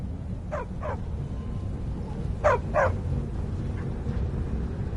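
A dog in the video game Skyrim gives four short barks in two quick pairs, moderately close, over a steady low ambient hum.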